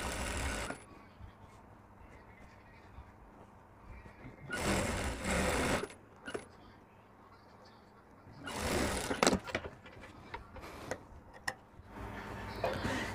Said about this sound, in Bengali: এভাবে এটা চাপ সেলাই দিয়ে বসায় নিতে হবে।